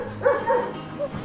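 Dogs let out a few short, moderately near barks and yips in quick succession, with brief gaps between them.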